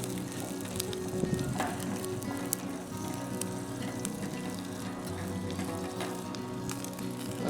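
Bacon sizzles in a G.I. mess kit over an ash-strewn campfire, giving a steady, soft crackle and hiss with occasional pops throughout and no talking.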